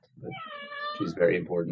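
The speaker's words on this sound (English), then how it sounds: "I always have to refer to my cat whenever she makes a noise" A pet cat meows close by in a drawn-out, wavering call, and a person starts talking over the end of it.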